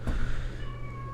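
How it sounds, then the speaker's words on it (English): A pet cat named Sabrina lets out a single drawn-out meow that starts loud and close and then trails off over a low room hum. "that's my cat going off."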